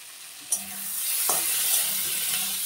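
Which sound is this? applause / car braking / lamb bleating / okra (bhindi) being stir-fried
okra (bhindi) being stir-fried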